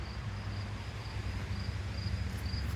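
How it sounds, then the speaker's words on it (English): Insects chirp steadily in a garden around five in the evening, a thin continuous buzz sitting under low rumbling background noise, with no voices. "It's a little after 5, so the bugs are starting to come out."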